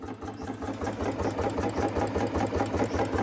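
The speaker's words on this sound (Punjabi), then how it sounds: "ਤੇ ਇਹਦੀ ਇੰਜਨ ਦੀ ਸਾਊਂਡ" A Royal Enfield Bullet with a bent silencer idles nearby in a steady, even thump-thump rhythm, moderately loud and unbroken by any voices.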